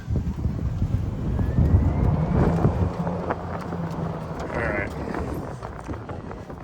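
A 2020 Club Car Onward fleet golf cart with a lithium battery and stock controller drives along, giving a steady low motor and rolling hum with wind rush, continuous and fairly loud throughout.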